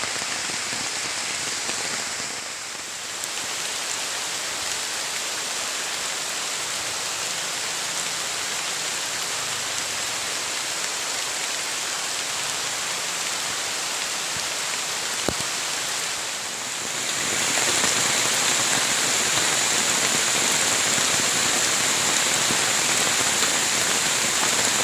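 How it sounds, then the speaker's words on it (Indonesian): Heavy rain pours at a campsite with a bamboo shelter, a dense steady hiss of drops on surfaces that dips briefly and then swells louder toward the end, with no voices. "hujannya semakin deras"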